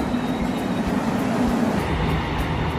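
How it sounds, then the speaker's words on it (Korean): Loud, steady rumble of a train rolling into a Seoul station close by, with continuous wheel and track noise filling the whole stretch. "경강산 열차가 들어옵니다."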